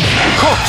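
A sharp whooshing swipe of Dudley's Corkscrew Blow punch in a Street Fighter video game, a single quick loud swish and impact over a busy game background.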